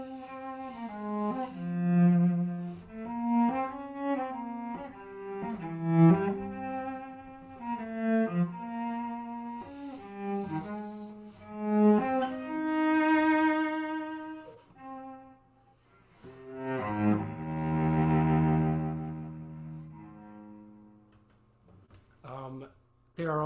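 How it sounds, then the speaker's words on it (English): A solo cello plays a sustained, singing excerpt from the second movement of Beethoven's Fifth Symphony. The phrases are slow and legato, with clear rises and falls in loudness and short pauses between them. No voices are heard. "So the Beethoven 5 second movement excerpt sounds like this."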